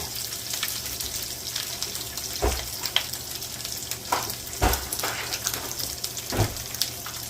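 Hot oil sizzles steadily in a pan, a constant hissing bed broken by a few louder pops and spatters at irregular intervals, close and moderately loud.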